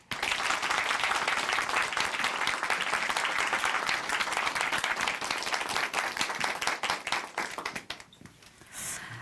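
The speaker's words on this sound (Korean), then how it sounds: "나오실 때 큰 박수 부탁드릴게요." A church congregation breaks into loud, sustained applause to welcome a woman to the stage, dense clapping that fills the room for several seconds before trailing off.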